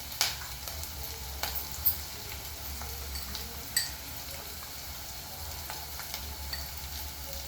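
Spices and turmeric fry in a pan for stuffed brinjal curry, a steady soft sizzle with a low hum and occasional light scrapes of a spoon, fairly quiet and without talk.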